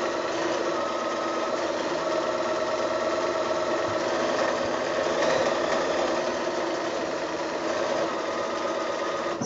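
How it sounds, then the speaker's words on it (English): A sewing machine runs steadily, hemming both ends of a fat quarter of quilting fabric with turned-in selvage edges, a continuous close mechanical whir and hum without pauses or talk. "So I'll quickly hem both ends of this."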